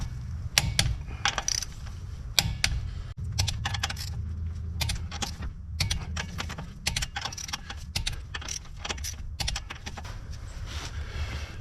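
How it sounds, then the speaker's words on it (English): A torque wrench tightens the locking hub bolts on a 1955 Willys CJ5 Jeep, making a close run of irregular metallic ratcheting clicks and clatter with short gaps between bursts. "Now I'm going to use a torque wrench and set all these to 35 foot-pounds."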